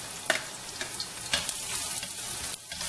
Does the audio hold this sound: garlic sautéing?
yes